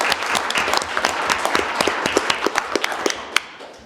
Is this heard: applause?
yes